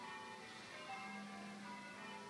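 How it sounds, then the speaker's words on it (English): Distant church bells ringing softly with a sustained, overlapping metallic hum, no voices. "You hear the bells ringing."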